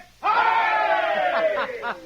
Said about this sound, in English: Give the masked gentleman a cheer